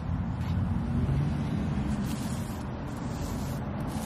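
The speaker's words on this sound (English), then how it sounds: "It is like rush hour right now, so for the car noise and all." Steady road traffic at rush hour, a continuous low broadband rumble of passing cars with a faint wind-like hiss, alone without talk.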